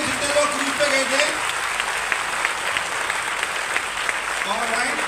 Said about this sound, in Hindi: मैं चाहूंगा एक बार जोरदार तालियां इनके लिए जितने लोग क्रूज पे गए थे।